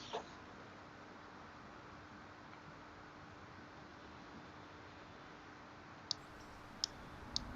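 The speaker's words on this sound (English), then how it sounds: "Click install." Several sharp computer mouse clicks come near the end over faint steady room hiss, spaced apart, with one more click at the very start.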